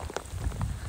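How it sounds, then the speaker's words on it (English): Hail falls in a rainstorm at San Pablo Bay while people are out fishing for striper. It makes a brief patter of scattered hits against a rough windy background, close and fairly faint. "That's the hail. It's falling on top of my head right now."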